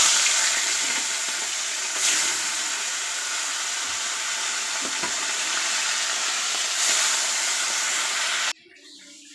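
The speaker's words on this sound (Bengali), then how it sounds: "কড়াইতে তেলটা গরম হয়ে গেছে, আমি মাছগুলো ভেজে নেব।" Fish fry in hot oil in a wok, giving a continuous loud sizzling hiss with a few slight surges before it cuts off abruptly near the end.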